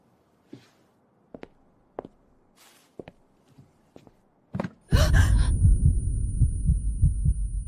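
A heartbeat sound effect, slow separate thumps spaced about a second apart and fairly soft at first, then a loud deep rumbling swell takes over and holds near the end.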